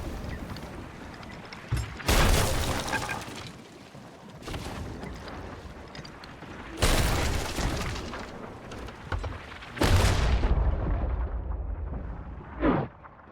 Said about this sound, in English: Cannons on the island.